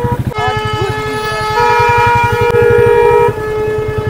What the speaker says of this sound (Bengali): আরে বাপরে কত হর্ন মারছে সবাই, সব বিয়ে বাড়ির গাড়ি যাচ্ছে